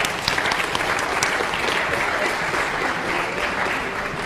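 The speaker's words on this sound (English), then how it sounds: "So let's give them a round of applause" A classroom audience breaks into a round of applause, many hands clapping in a dense, even patter that stays steady and fairly loud from start to finish.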